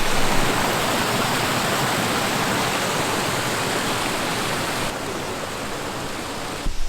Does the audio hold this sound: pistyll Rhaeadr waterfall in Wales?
yes